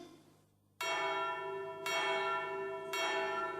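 Single bell rung in three loud, ringing strikes about a second apart, each tone sustaining and decaying into the next, clear and close with no voices.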